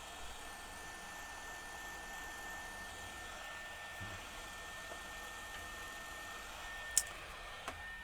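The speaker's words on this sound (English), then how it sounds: "A bit of heat from the heat gun" A heat gun blows hot air onto a damaged laptop in a workshop, giving a steady, moderately loud whooshing roar that runs through the whole stretch, with a couple of faint clicks near the end.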